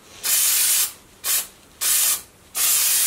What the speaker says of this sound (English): We're going to just spray a light coat on this, just a few inches back.